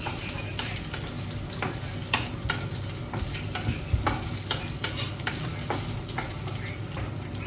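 Pork belly being sautéed in a little of its own rendered fat, with steady close sizzling broken by repeated scrapes and clicks of a utensil stirring in the pan; no talking.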